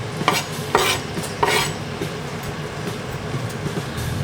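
Onions going into sunflower oil in a hot wok, a steady frying sizzle broken by a few clattering stirs of a utensil against the pan early on.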